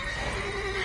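A brief, close horse whinny from The Witcher game sounds as one sustained tonal call lasting under a second.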